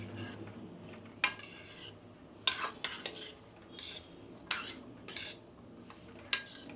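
Dried brinjal pieces and rice grains are stirred in a pan as they fry with salt, giving sharp metal-on-pan scrapes and clinks at a loose, irregular pace over a soft, faint sizzle, with no voices.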